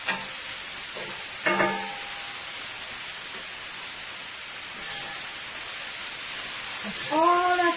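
Bora beans frying in a pan during a beef and cabbage stir fry: a steady broad sizzling hiss throughout, with a couple of brief clinks and a squeaky scrape near the end.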